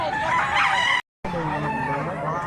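A blue-legged bullstag gamecock crows at a rooster market in Mantalungon, Cebu. Two close, loud crows are split by a brief gap, with a harsh, ringing tone.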